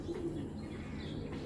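Racing pigeons at a pigeon farm coo softly and steadily, with a low murmuring call carrying over light background noise and no talking.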